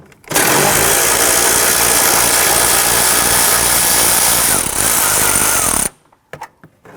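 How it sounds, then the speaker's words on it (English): A power tool spins out a 10mm bolt holding a bracket inside the fender of a Honda Pilot. The loud, steady buzzing whir runs close up for about five and a half seconds, then stops abruptly, followed by a few faint clicks. "Going to remove this 10mm bolt here, holding the bracket to the inside part of the fender."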